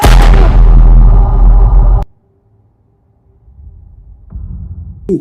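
A film gunshot lands as one loud, heavy boom with a deep rumbling tail that cuts off sharply, followed by a quiet low hum and a smaller thump near the end.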